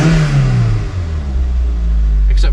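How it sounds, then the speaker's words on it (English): A car engine, in a Toyota MR2 with an exhaust leak, revs and then settles into a low, rough idle with a puffing, uneven exhaust note, loud and close. "Except for the blow in the exhaust,"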